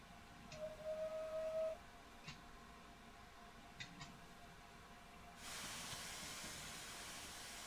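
Steam locomotive in a train driving game, a Lancashire and Yorkshire Railways Class 23, firing up: a steady hiss with brief whistle-like tones, then a louder rush of steam that holds to the end.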